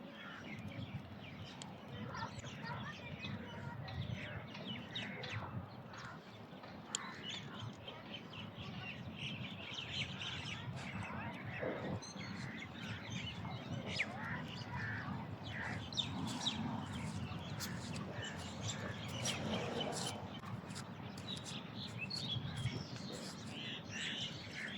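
Birds chirp and sing in a cool beach park. Their many quick, light calls repeat over a constant outdoor hum and a faint murmur of people.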